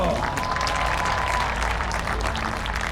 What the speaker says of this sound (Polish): A największe brawa należą się Wam.